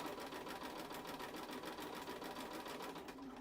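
Sewing machine stitching fabric for a pencil case over pins at a steady, even hum, running continuously and close at moderate level.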